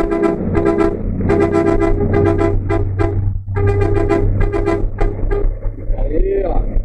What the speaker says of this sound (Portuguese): Esse aí é o buzinaço para os inscritos